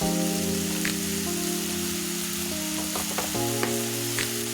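Pabda fish curry with turmeric in a pan, a dense, steady sizzle with a few light stirring clicks near the end, close and continuous, with no voices.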